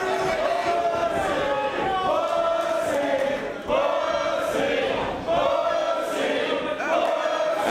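A wrestling crowd at a Ring of Honor show chants loudly in a steady rhythm, with the same phrase rising and falling about every second and a half. The chant carries on without a break.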